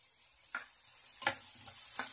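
Tomatoes are stirred into a sizzling crab curry masala, with three quiet scraping strokes of a spoon over a faint steady frying hiss, no talk.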